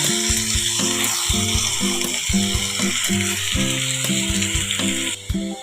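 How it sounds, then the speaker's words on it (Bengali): Onion and garlic paste frying in a pan over low to medium heat: a continuous crackling sizzle with rhythmic scraping strokes of a spatula, over a steady background hum. "পেঁয়াজ রসুনটা আমার মোটামুটি কষিয়ে এসেছে"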